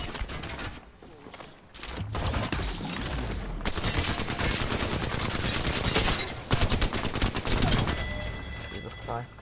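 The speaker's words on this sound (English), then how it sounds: "I'm being shot by so many different people." Rapid, overlapping bursts of automatic gunfire from several directions fill a solos match in Apex Legends, loud and almost continuous, with brief gaps between volleys.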